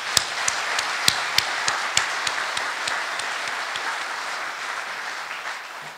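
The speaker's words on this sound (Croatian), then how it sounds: "molim još jedan veliki aplauz." Steady applause from an audience at a formal municipal ceremony honouring laureates, a dense wash of clapping with a few sharper individual claps standing out early on, slowly thinning toward the end.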